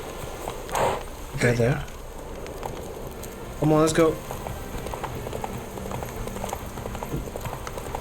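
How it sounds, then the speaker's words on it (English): Horse hooves clip-clop along a road in the video game The Witcher 3, a steady trotting rhythm under game ambience, while someone speaks briefly over it. "I need to use a horse."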